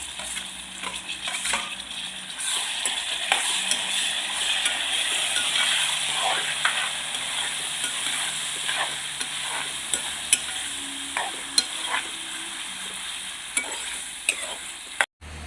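Tomatoes sizzle in a pan of frying chikkudukaya for a curry, a steady bright hiss broken by scraping and clicking stirs, close and continuous, ending abruptly.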